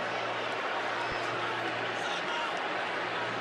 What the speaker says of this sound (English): The crowd boos after watching the replay